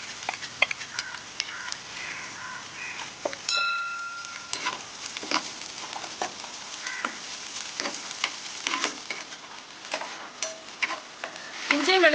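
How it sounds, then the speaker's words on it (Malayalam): Ginger, garlic and green chilli fry in hot oil with a steady crackling sizzle, punctuated by sharp pops and clicks of stirring against the pan, close and moderately loud. "എണ്ണ ചൂടായി വെളുത്തുള്ളി ഇട്ട് കൊടുക്കണം."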